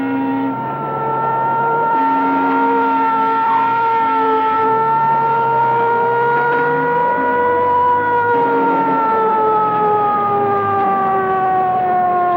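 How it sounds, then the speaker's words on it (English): An ambulance siren from a 1932 mystery film wails steadily for the whole stretch, its tone rising and falling slowly. It stays loud and continuous, with no voices over it. "Ambulance coming"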